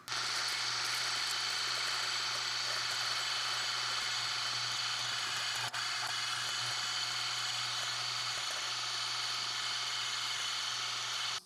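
Electric meat grinder with its finest grind plate fitted, forcing meat through for homemade bologna; a steady, loud motor whine and buzz runs without pause, with one brief dip midway.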